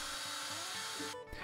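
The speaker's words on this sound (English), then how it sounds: "the Hinge Crafter makes drilling perfectly centered pivot holes a simple task using your hand drill" A hand drill whirring as it bores centered pivot holes in wood with an Incra Hinge Crafter jig for box hinges, a steady close motor whine that cuts off near the end.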